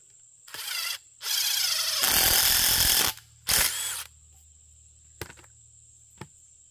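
A power drill bores a hole into a shiitake mushroom log in several loud, close bursts of whining and grinding with short pauses between, ending in brief taps, over a faint steady high insect-like tone.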